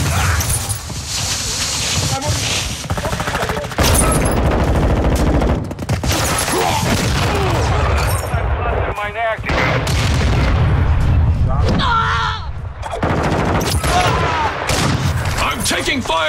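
Dense gunfire in a Call of Duty DMZ match, with rapid automatic bursts, booming shots and explosions repeating loudly throughout, broken by brief lulls and mixed with a player's voice.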